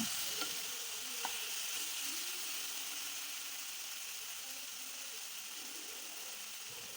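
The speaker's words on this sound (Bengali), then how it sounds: "আদা রসুন পেঁয়াজের সঙ্গে মাছের মাথাটা কষিয়ে নেব 2 মিনিটের জন্য" Fish head sautéing with ginger, garlic and onion in a little water in a pan for Bengali moong dal, a steady soft sizzle with a couple of faint scrape clicks early on, continuous and even throughout.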